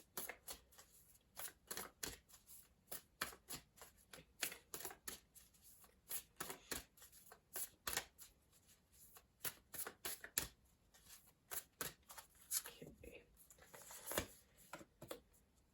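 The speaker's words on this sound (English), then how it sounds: "I'm going to pull one more oracle card from the Moonology Oracle deck" Moonology Oracle deck cards being shuffled by hand, close and crisp, in a long run of quick riffling bursts and taps with short pauses between them, no voice over them.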